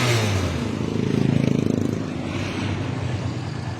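A Kawasaki Barako 175 motorcycle engine idles low and steady at close range, a continuous even rumble that swells slightly midway and then settles, with no talking over it.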